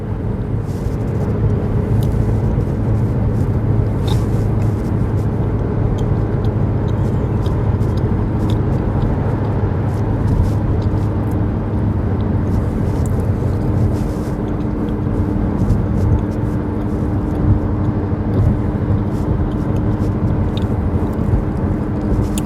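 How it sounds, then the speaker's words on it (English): Dense Maryland rush hour traffic roars steadily and loudly, with a continuous engine and tire drone from many passing vehicles and no clear gaps. "rush hour traffic in Maryland,"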